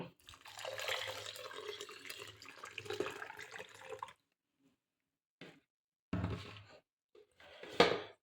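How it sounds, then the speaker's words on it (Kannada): Cooking water from boiled lentils is poured into a pot of bele rasam in short splashy bursts separated by silence, quiet and close with no talking. "ಇವಾಗ ನೀರು ಹಾಕೊತಾ ಇದ್ದೀನಿ ಬೇಯಿಸ್ಕೊಂಡಿರೋ ನೀರು"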